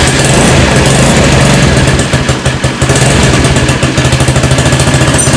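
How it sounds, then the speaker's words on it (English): A GY6 139QMB scooter engine idles steadily while warming up, a loud, continuous close-up putter with a fast, even pulse and slight wavering in the middle. "First step is you gotta start your scooter. Just let the engine warm up a little bit"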